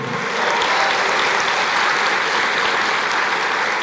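Church congregation applauding during a worship service, a dense, steady wash of many hands clapping at full, even volume for the whole stretch with no speech over it.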